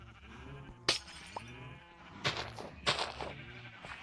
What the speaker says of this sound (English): I need to get another light blue sheep in here